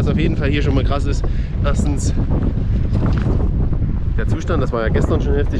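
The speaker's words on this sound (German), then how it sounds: "ihr seht und ihr hört es wahrscheinlich auch, hier ist richtig viel Wind" Strong wind roars and buffets the microphone at an American scrapyard, a constant loud rush beneath someone speaking German throughout.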